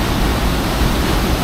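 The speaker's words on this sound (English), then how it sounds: "The water's really rushing through at the moment because it's been a lot of rain." Dolgoch Falls, a waterfall in North Wales, roaring after heavy rain: a steady, dense, loud rush of falling water, constant and unbroken with no voices over it.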